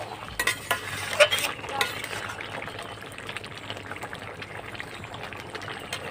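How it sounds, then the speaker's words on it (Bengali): Fish being stirred in a frying pan, a few scraping knocks of the spoon at the start over a soft sizzle that fades to a quiet, faint frying hiss. "মাছগুলো দিয়ে একটু নেড়ে নেব।"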